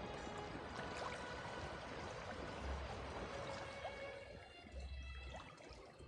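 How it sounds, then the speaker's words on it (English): A natural waterfall spills into a natural pool inside a house in The Elder Scrolls Online, giving a steady, soft rush of falling and trickling water that continues without a break. "which is more of a natural pool with a natural waterfall."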